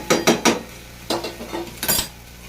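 Potatoes and spices stir-fried in a pan, a handful of sharp spatula scrapes and clanks against the metal in quick clusters over a faint sizzle, close and without talk.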